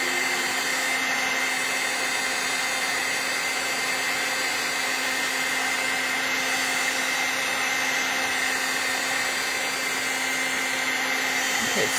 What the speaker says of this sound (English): So we're going to try to heat the grit paste.